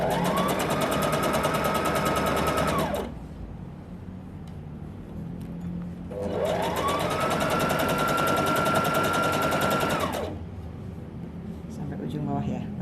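A sewing machine stitches pyjama fabric in two long runs of fast, steady mechanical whirring. Its pitch rises as it speeds up, with a quieter pause between the runs and faint background noise.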